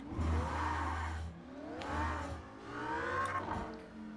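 A Lamborghini Sesto Elemento's engine revs hard around the Monza circuit, climbing in pitch through three rising pulls with brief dips at each gear change, heard from a moderate distance.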